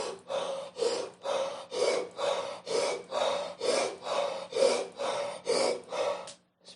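Rhythmic, forceful breaths repeat about a dozen times in steady succession, each a short rasping puff like someone short of breath during a breathing exercise, close and clear with no talking.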